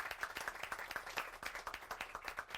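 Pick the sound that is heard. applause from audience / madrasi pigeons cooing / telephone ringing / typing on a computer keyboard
applause from audience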